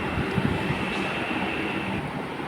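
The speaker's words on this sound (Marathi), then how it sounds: "आणि असं मी आता ब्रिजवरनं वंदे भारतला बघतोय" A Vande Bharat express train rumbles past, heard from a bridge near Kankavali station, with a steady, broad roar and low mechanical drone, sustained throughout without pause.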